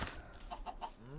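Escaped chickens clucking in Minecraft, a few short clucks in quick succession with a rising squawk at the end, fairly quiet.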